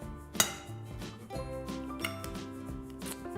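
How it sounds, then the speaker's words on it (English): A single egg cracked for a muesli bite mixture: one sharp tap near the start, then soft kitchen handling noises under steady background music. "you only need 1 egg for this. Alright, hopefully I don't crack it wrong"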